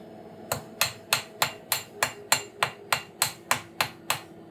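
Sharp, hard knocks strike solid crystallized honey in a bucket about fourteen times in steady rhythm, each a dull thud with a brief ring.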